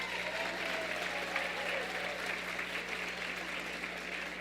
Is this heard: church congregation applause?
yes